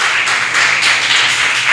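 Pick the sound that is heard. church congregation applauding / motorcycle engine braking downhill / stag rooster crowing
church congregation applauding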